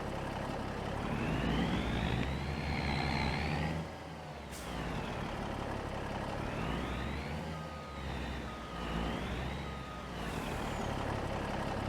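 A long-wheelbase truck in Farming Simulator 25 rumbles steadily up close, with rising and falling engine tones, a sharp air-brake hiss and repeated reversing beeps over the drone.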